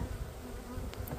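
Honey bees at an open beehive during a hive inspection, giving off a steady, close, dense buzzing that fills the whole moment with no talk over it.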